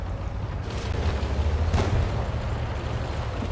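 Artillery shell explosion in World of Tanks during a Japanese heavy tank match in a city, a deep rumbling boom with a sharp burst in the middle, dense and loud, no voices.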